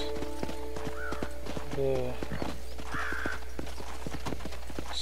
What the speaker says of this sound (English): Three speeds of horses.